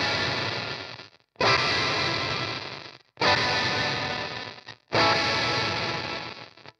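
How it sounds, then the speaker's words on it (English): A lo-fi reverb effect with a raised noise floor: three loud, dense bursts of crackling, gritty wash, each cut off briefly before the next, tailing and fizzling toward the end, with no talking. "you'll really sort of hear this sort of crackle on it."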